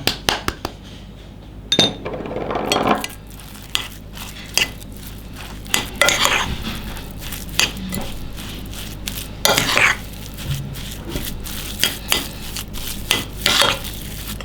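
A spoon clinks and scrapes against a bowl while batter is stirred after three tablespoons of cornstarch are added, with irregular sharp taps and steady scraping close up in a quiet kitchen.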